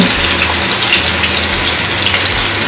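Ground spices with turmeric, garam masala, chili powder, cumin, a little yogurt and salt frying in a pan for a paneer-stuffed potato gravy, giving a steady, close, dense hiss with a faint bubbling undertone and no talk.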